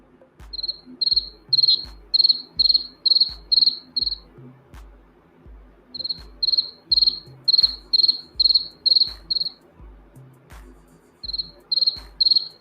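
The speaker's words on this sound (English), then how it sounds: "The cat's tripping on the cricket noise." Crickets chirp in repeated bursts of rapid high pulses, grouped in runs separated by short pauses, loud and close, over a steady low thumping background with no talk.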